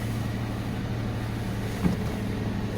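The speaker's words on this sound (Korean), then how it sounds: "지금 겨울철이라서 엔진 RPM 어, 패스트 아이들 기구가 돌고 있고요." A Kia Opirus engine on cold winter fast idle, a steady low hum running close and constant with one small knock partway through, no voices.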